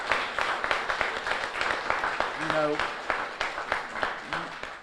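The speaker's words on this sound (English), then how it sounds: "let's give Coach a round of applause." Applause from an audience welcoming the new Monroe Greenheads head coach, steady crowd clapping throughout with a voice speaking briefly over it.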